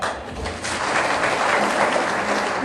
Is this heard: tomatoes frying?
no